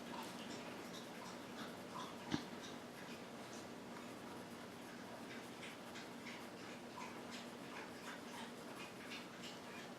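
A dog laps up a drink with faint, rapid wet licking, soft and distant beneath low room noise, with one brief sharp tap partway through.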